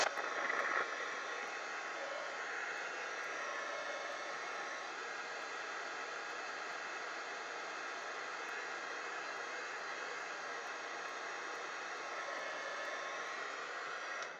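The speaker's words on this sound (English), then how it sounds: "We're not dry yet. Heat gun." Steady, loud heat gun blowing a continuous airy roar throughout, used to dry a layer of paint on a mixed media artist trading card, with a brief bump at the start.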